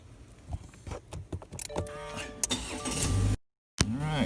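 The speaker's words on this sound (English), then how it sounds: "Alright, car started." A 2020 Subaru Crosstrek Premium starts: clicks and relay chatter, a whirring crank, then a brief dropout before the engine catches and settles into a steady hum, heard close by.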